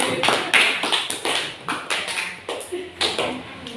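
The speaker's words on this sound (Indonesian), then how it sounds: "berikan tepuk tangan dong untuk kelompok 2" A classroom group applauding a presentation by group 2, with a burst of brisk, near hand claps that pulse in uneven waves and fade at the end.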